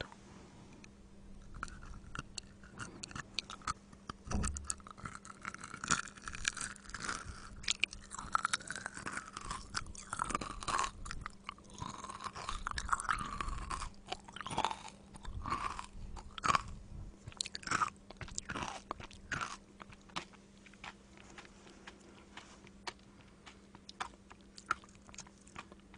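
Crunchy kohakutou, a meringue-like sugar candy, is bitten and chewed close up, giving a dense run of crisp crunches and soft chewing in a quiet room, with no talking.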